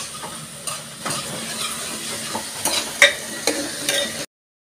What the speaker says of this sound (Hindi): इसके लिए हम तड़का भून रहे हैं अपना। इसमें ऑयल और ऑनियन ऐड किया